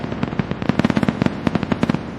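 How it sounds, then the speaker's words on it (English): Festival fireworks burst in a rapid, irregular string of sharp crackling pops, heard at a distance and fairly quiet. "the distant explosion of festival fireworks"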